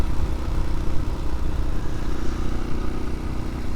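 A Husqvarna motorcycle engine, fitted with an aftermarket clutch plate set, runs steadily with a dense, close mechanical rumble and clatter that holds at an even level throughout.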